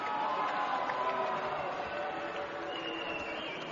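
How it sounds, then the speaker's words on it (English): Arena crowd at a professional boxing match between Rakhim Chakhkiev and Harvey Jolly reacts after a knockout count, a sustained, fairly loud mass of voices with a drawn-out booing tone running through the whole stretch. "And some fans are booing."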